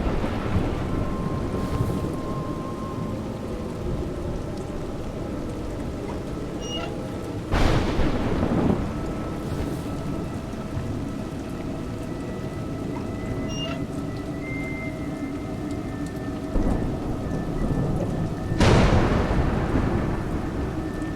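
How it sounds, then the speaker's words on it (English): Rain falls steadily in the video game A Juggler's Tale, with two sharp thunder cracks and a softer rumble breaking through the constant downpour. "It's raining."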